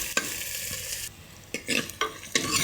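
Onions frying in a pan for a sardine curry, with a steady soft sizzle broken by several short scraping stirs of a spoon against the pan.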